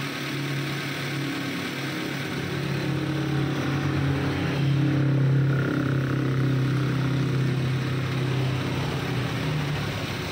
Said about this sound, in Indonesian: Nah baru sekarang kita akan nyalakan engine-nya, kita tes.